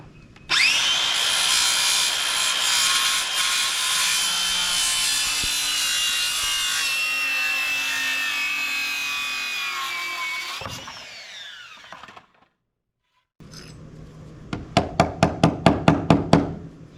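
A hand saw cuts through wood during a house build, a steady close rasping stroke for about ten seconds, then after a brief silence a run of sharp, rhythmic saw strokes quickening at the end.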